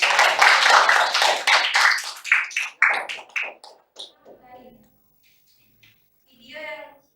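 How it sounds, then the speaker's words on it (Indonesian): Classroom applause during a teacher-training lesson as a student group is invited to present: a few seconds of brisk, dense hand clapping that thins into scattered claps, followed by people talking. "Tepuk tangan semangat untuk"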